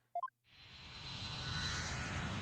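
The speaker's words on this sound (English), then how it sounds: "Oh, plane noises." An airplane engine roar in the Ace Attorney 6 video game swells up after a few short chime tones, a broad steady rumble building and holding loud to the end.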